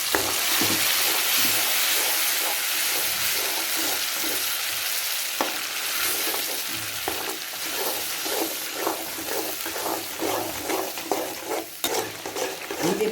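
Mint paste frying in hot oil in a pan for rice, a steady close sizzle broken by repeated rhythmic scrapes and stirs of a spoon against the pan.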